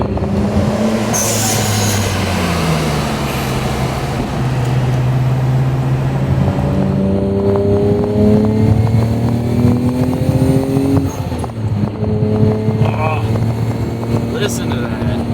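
A Nissan Skyline R34 GT-R's engine runs close by, its tone rising and falling through several revs with smooth, climbing pitch sweeps and a brief dip near the end.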